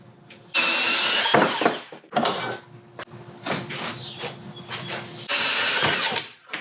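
Bursts of loud, close power cutting on a metal part for a Jeep Wrangler TJ roof rack, with gaps of clatter and handling between the cuts.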